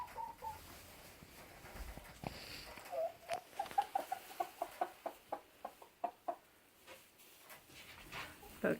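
Bovans Brown laying hens in a long shed-style coop around a hanging feeder, giving a run of quick, close clucks and short calls in a steady patter, with scattered rustling underneath.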